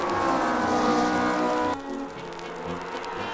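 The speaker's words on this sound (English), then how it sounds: "Here they come exiting Dunlop, down the main straight." Race cars in the ORL Tasman Series at Pukekohe roar loudly down the main straight, then the engine note drops sharply partway through as they pass and fade to a lower rumble.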